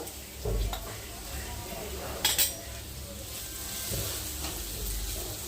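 Kasarakaya (small bitter gourds) frying in a tempering pan, with a steady low sizzle and occasional stirring scrapes and utensil clinks against the pan, close and continuous throughout.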